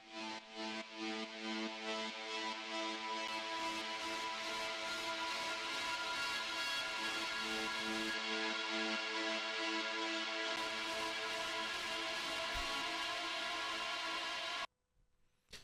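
Dense heavy metal demo mix, thick with layered guitars and drums, plays first dry and then with Saturn saturation, the texture growing brighter and fuller partway through before cutting off abruptly near the end.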